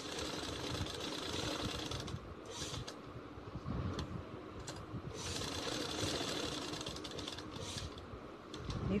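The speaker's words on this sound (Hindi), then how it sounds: "इस तरीके से अब हम यहाँ से अपनी सिलाई शुरू करेंगे।" A sewing machine runs steadily while stitching a poncha, a continuous close mechanical whir with brief pauses and restarts, and no talking.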